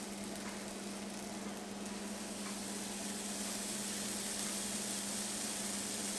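Sourdough pancake batter sizzles steadily in a hot pan, a soft, even hiss that holds without a break.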